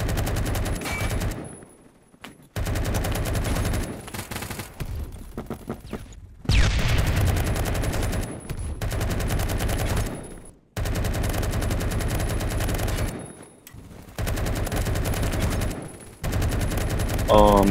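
Repeated bursts of loud automatic gunfire in the Phantom Forces shooter game, with sustained volleys several seconds long broken by short silent gaps, carrying on throughout.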